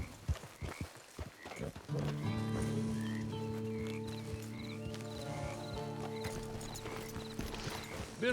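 Steady clip-clopping horse hooves trot along at an even rhythm, with a brief whinny and a low droning tone beneath, no one speaking, in the video game Red Dead Online.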